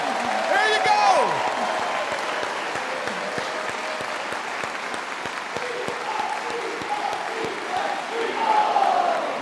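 A crowd at an evening with a guest gives loud, sustained applause with cheering and shouts, individual claps standing out over a steady roar while voices ring through.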